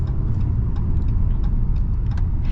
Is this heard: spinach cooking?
no